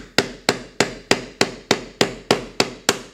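A metal snap driver is struck with a hammer over an anvil to set a snap fastener on soft leather, ten sharp evenly spaced blows about a third of a second apart, each with a quick ringing decay, close and loud with no talk.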